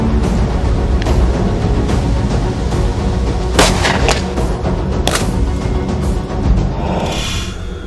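Glock 17 pistol shots fired at bulletproof glass outdoors at a range ring out as a few sharp bangs over loud, constant wind-like rumble, with no talking.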